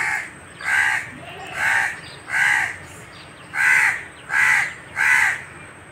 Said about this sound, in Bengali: এই যে শুধু কাকের শব্দ পাওয়া যাচ্ছে